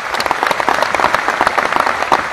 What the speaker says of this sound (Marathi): मला वाटतं त्यासाठी पण आपण टाळ्या वाजवतो